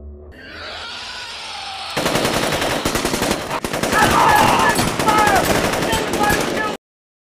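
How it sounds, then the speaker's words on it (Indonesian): Soldiers in a film open fire: after a quieter stretch, loud, dense automatic gunfire erupts in rapid continuous volleys for about five seconds, then cuts off abruptly. "Vicky dan timnya pun akhirnya melepaskan tembakan"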